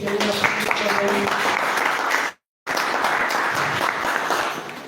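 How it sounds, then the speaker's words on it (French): An audience gives a family a loud, dense round of applause that runs steadily, breaks off briefly near the middle, then resumes just as full, with voices faintly mixed in. "va applaudir pour eux"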